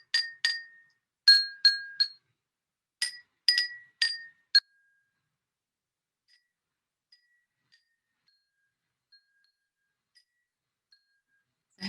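Glasses holding different amounts of water, one left empty, are tapped one after another, giving about eight bright, ringing pitched tones in quick clusters that differ in pitch, close and clear, followed by several seconds of near silence.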